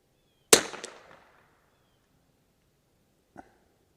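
Bergara B14R rifle fired at an outdoor range: one sharp, loud gunshot with a decaying echo, then a faint distant report about three seconds later, with no talk.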